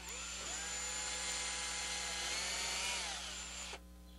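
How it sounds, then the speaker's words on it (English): A power drill bores out the top half inch of a screw hole in a hardwood chair, whirring at a high, steady pitch for about three and a half seconds before cutting off abruptly, close and alone. "I'm going to just drill again the top half inch out so that this part won't have trouble going into that hard wood."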